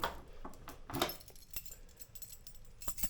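A small ring of three keys jingles and clinks softly in several short bursts, close by in a quiet garage.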